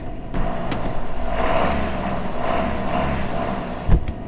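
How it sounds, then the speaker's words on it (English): A steady, low tractor engine drone runs throughout at a constant pace, with a brief thump near the end; no one speaks. "I absolutely love the sound these tractors make"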